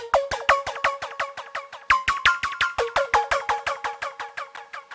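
Rapid, glassy synth plucks repeating in a busy pattern, each note trailed by echoing repeats that blur into a shimmering wash.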